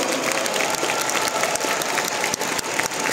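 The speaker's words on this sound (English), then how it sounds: "Can we give our Vietnamese brothers a round of applause today?" Dense, continuous applause from a large audience at a business seminar, loud and steady with no talking over it.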